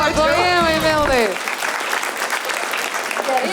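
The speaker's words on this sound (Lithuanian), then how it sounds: "plojimai Mildai" Studio audience applause for a guest named Milda on a Lithuanian talk show, a dense burst of clapping that starts under a voice speaking and then carries on alone, steady and fairly loud.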